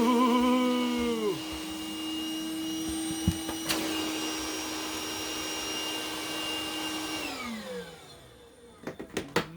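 A vacuum cleaner drawing air through a cardboard box rigged as a dust collector gives a steady, loud motor whine that winds down toward the end, followed by a few sharp knocks and rustles.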